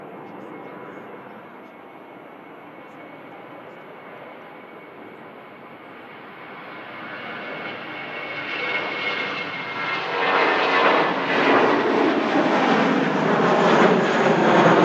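A passenger jet departs Manchester Airport for Barcelona in misty weather, its engine roar swelling from a distant rumble to a loud, broad thrust that peaks and holds near the end.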